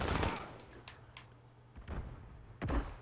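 Sniper rifle gunfire in the Modern Warfare video game: several booming shots, one heavy blast at the start and more sharp cracks and thuds spaced over a few seconds, loud and close, with no speech.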